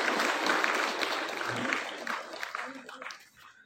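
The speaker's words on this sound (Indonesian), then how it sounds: "Beri tepuk tangan yang meriah buat Muhammad Kamalul Yakin kelas 8A." A crowd at a junior high school Independence Day ceremony in Majenang applauds a student award, with dense clapping under murmuring voices that gradually thins and fades toward the end.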